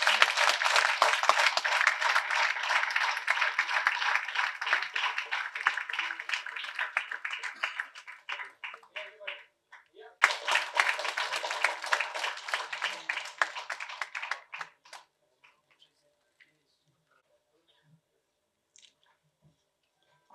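An audience at an award ceremony gives loud, sustained applause that breaks off briefly, surges again, then ends abruptly and leaves near silence.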